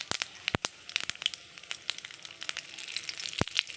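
Dried red chillies, five-spice and two bay leaves crackle in hot mustard oil in a wok, a quiet, irregular run of sharp pops and spits over a low sizzle, with no talking.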